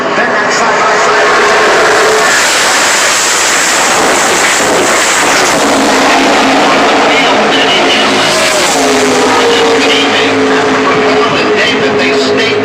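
NASCAR race cars roar past at Talladega in a loud, continuous wall of engine noise, with the engine pitch rising and falling as the pack passes, and commentators talking over it.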